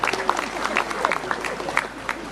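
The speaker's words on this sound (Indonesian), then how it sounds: "Tepuk tangan untuk adik-adik SMA 3." Scattered clapping from an audience honoring SMA 3 Nganjuk students at a Nyepi celebration gathering at a Hindu temple, a short burst of claps with voices mixed in.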